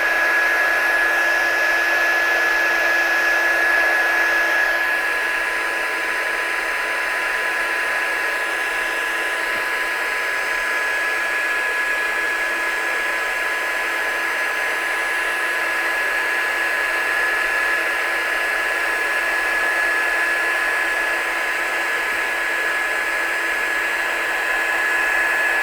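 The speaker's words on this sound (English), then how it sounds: "And then I'm just going to heat my gun." A heat gun used for heat embossing on a vellum overlay runs continuously at close range, giving a steady, loud blowing whine that holds evenly for about 25 seconds with no talking.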